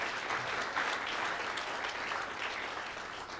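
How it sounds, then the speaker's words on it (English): Warm, sustained applause from a lecture audience for a professor speaking on Irish origins: a steady wash of many hands clapping at even volume throughout, with no talk over it. "please give a warm round of applause to Professor Jim Mallory"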